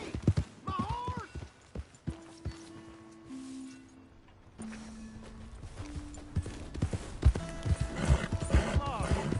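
Rhythmic hoofbeats of a horse clip-clopping with a brief whinny in Red Dead Redemption 2, under cartoonish voices and a few sustained musical tones.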